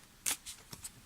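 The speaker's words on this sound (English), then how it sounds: "I love shuffling this deck." A glossy, silver-edged Silver Witchcraft tarot deck being shuffled by hand, with a few quick, crisp riffles and soft card slaps heard up close in a quiet room.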